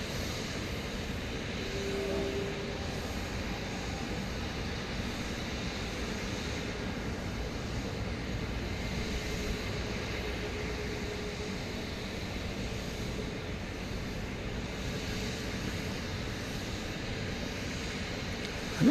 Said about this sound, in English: So it looks like Gate 1 will soon be occupado by this aircraft.